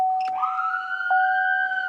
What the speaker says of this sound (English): we do have the dual sirens